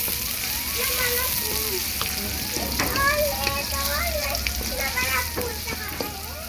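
Chopped onions sizzle and fry in a pan for spinach greens cooking in a home kitchen, a steady crackling hiss with occasional stirring, under a voice speaking throughout.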